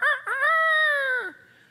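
A man imitates a rooster crowing with his voice, one loud drawn-out cock-a-doodle-doo that rises, holds steady, then drops off, alone and close with no other sound around it.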